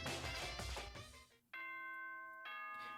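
A bright two-tone ding-dong chime from the Danganronpa video game rings out clearly after a burst of dense sound, the tones sustaining and then striking again near the end.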